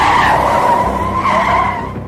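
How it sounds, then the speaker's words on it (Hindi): A police van skids hard to a sudden stop on a road, a loud, sustained tyre screech lasting about two seconds and easing slightly toward the end, with no talking. "रास्ते में जाते जाते अचानक गाड़ी रुकी"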